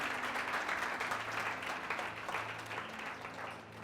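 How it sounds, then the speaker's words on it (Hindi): A congregation at a worship service claps together in a warm, fairly quiet burst, with a sustained low musical tone humming underneath. "क्यों ना ताली बजाकर प्रभु का धन्यवाद करो।"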